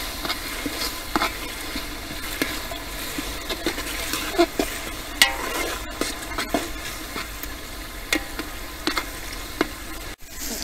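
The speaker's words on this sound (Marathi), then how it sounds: "परतवून घेतलेल्या कांद्याची पेस्ट तर ती टाकून घेऊया" Sautéed onion paste for misal sizzles and frys in a large pot over a wood-fired stove outdoors, with intermittent stirring scrapes over a constant hiss. The cooking sounds continue steadily at moderate loudness with no talk.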